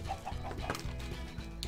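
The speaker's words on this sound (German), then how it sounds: "Ich habe meinen Huhn gerettet." A Minecraft chicken clucks in short repeated bursts, close and fairly loud over low background game music, with a few quick cluck calls spaced irregularly across the moment.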